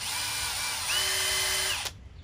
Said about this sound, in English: Once I've done that, I've got a countersink in my drill